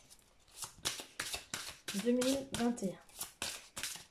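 Tarot cards being shuffled by hand in a series of rapid, papery riffles and slaps, close up, with someone speaking French over them.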